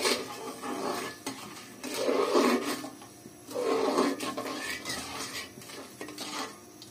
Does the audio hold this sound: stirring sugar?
yes